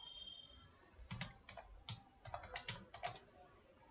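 Keys on a computer keyboard tapped in a few quick, quiet clusters, faint and close in an otherwise still room.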